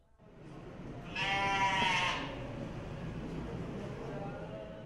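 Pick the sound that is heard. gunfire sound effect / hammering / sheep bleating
sheep bleating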